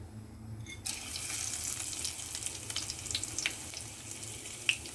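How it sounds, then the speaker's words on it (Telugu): Tempering seeds hit hot oil and set off a steady bright sizzle with small crackling pops, starting abruptly under a low background hum and holding close and moderately loud to the end. "తాలింపు గింజలు వేసుకుందాం."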